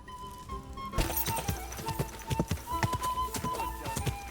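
Horse hooves clip-clopping in Kingdom Come: Deliverance 2, a steady run of hollow thuds that becomes brisk and continuous after the first second, with faint ambient tones underneath.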